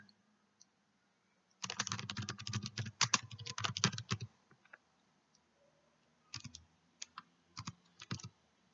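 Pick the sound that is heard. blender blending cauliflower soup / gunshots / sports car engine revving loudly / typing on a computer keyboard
typing on a computer keyboard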